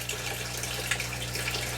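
Water trickles and flows steadily through gutters in a simple aquaponic growing system with strawberries, a soft continuous splash heard close and alone.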